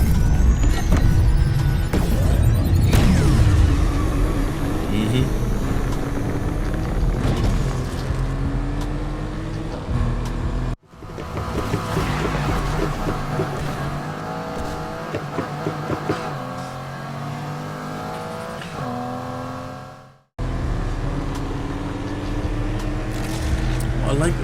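A racing car engine in Need for Speed Unbound revs hard and pulls off the line, its pitch climbing through gear changes, loud and close, with brief cuts in the sound between segments.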